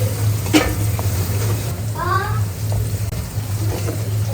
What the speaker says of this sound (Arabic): الجزر بعد ما هيك دبلت حبة البصل ورح نقليها مع البصلة